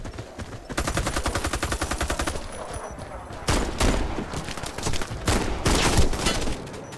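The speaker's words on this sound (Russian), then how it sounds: "как он из этого винтореза стреляет?" A Vintorez suppressed sniper rifle firing in an online shooter game: a long, steady run of rapid evenly spaced shots, then a pause and several heavier bursts of fire, all loud and close with no talk over them.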